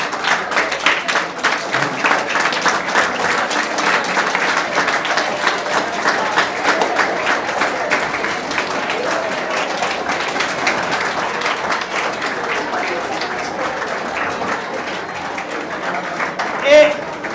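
An audience at a school annual function claps steadily throughout, a dense crowd applause with even intensity that briefly peaks near the end.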